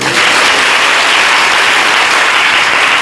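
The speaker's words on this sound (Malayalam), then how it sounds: "ഇത് നിങ്ങൾക്ക് അനുഭവമായിട്ടുണ്ടെങ്കിൽ എല്ലാവരും കൂടെ ഒന്ന് കൈയടിച്ചു കേട്ടോ" Audience at a Kerala temple festival applauding, steady loud clapping heard close and unbroken throughout.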